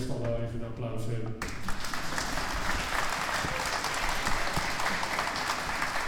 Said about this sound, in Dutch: Mogen best wel even een applaus hebben.